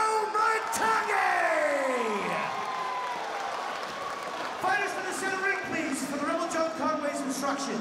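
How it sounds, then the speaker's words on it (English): Boxing match crowd cheering, yelling and whooping for a middleweight fighter's introduction, a loud continuous roar of many voices with long rising and falling shouts, close and full throughout. "Crowd evenly divided with the cheers."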